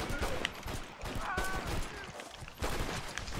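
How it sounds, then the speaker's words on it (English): Gunfire in a Red Dead Redemption 2 Online showdown, with a dense burst of shots near the start and again near the end, mixed with voices talking over the game. "I'm shooting the guy on your left, James."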